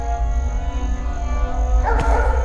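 A dog barks and yips while giving chase in a Tamil movie scene, its short calls sitting close over a dense background of music and effects, with a brighter burst near the end.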